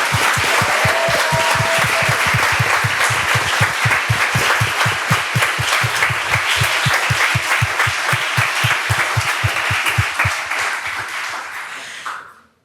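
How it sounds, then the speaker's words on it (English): Big crowd applause at a startup demo day for the competing teams, loud steady clapping that turns into a rhythmic unison beat before fading out at the end. "I would like you to give another round of applause for all 9 teams"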